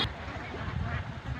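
Ducks on a duck farm quack in a dense, continuous flock chorus at moderate distance, with steady background noise under the calls.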